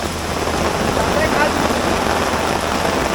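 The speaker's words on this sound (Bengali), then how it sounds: "বলার মতো না কি পরিমাণ বৃষ্টি হইতেছে" Heavy rain falls steadily in Ratargul swamp forest in Sylhet, a thick unbroken hiss that holds at constant loudness close by.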